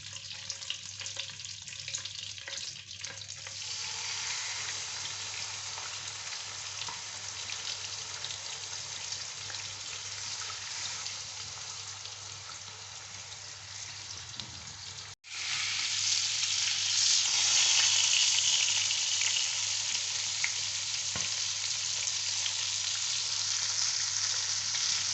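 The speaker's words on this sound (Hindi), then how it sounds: "अब हम चिकन फ्राई कर लेते हैं।" Chicken pieces fry in a pan over very low heat as part of a tandoori chicken macaroni dish, giving a steady, close sizzle throughout that turns louder and brighter partway through, with no talk.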